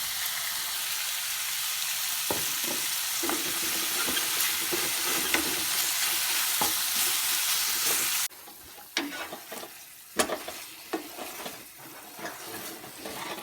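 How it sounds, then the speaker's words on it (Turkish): Chicken frying in oil in a pan as its water cooks off, a loud, steady close hiss and sizzle with occasional stirring clicks, then a quieter, crackling stretch with sharper pops. "Suyu çekildi toyuq ətinin ve qovrulmağa başladı."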